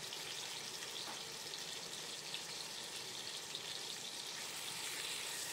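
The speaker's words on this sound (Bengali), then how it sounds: "এপিট ওপিট একটু ভেজে নিলেই হবে।" Chicken pieces fry in a pan with a continuous, even, hissing sizzle, moderately quiet and steady throughout with no talking.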